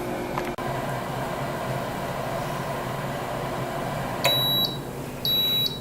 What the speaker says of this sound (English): the beep means it's done